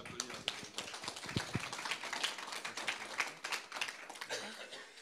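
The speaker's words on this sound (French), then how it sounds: "On peut les applaudir." A church audience breaks into light applause at a gathering, with scattered, fairly faint claps and taps that come in uneven bursts over a quiet room, with some murmuring mixed in.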